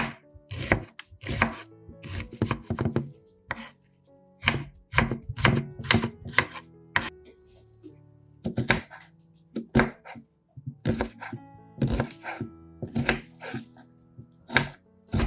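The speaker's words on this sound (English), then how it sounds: "you can finely chop them for stir-fries or sauces, or cut larger pieces for soups" Onions chopped with a knife on a cutting board, crisp close thuds in fast bursts with short pauses between runs, no talking.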